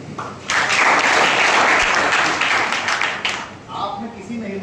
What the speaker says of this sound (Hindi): इस लड़की के लिए ना, पहले तो ताली बजनी